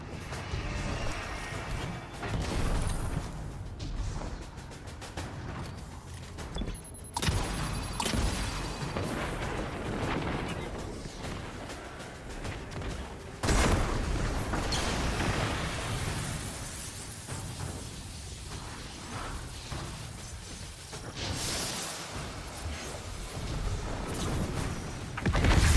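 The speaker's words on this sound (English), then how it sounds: "Grenades." Grenade explosions in the shooter Destiny 2 go off among constant game noise, with sharp loud bursts partway through and a final blast at the very end.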